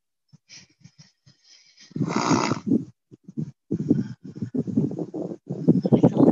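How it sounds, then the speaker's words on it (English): Snoring during a meditative animal- and nature-assisted awakening gathering: irregular rough, rasping breaths and snorts, some short and some drawn out, with gaps between them. The sound is close and moderately loud. "Snore from Kalia."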